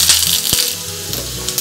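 Hot sesame oil sizzling loudly and steadily, with a few sharp pops and crackles as mustard seeds, green chilli and ginger hit the pan, close up.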